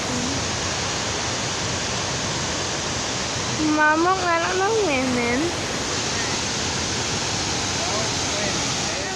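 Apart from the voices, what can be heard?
waterfall at Rock Island State Park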